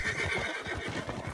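A horse in the Red Dead Online Western video game lets out a single close, loud whinny lasting just over a second, with no talking over it.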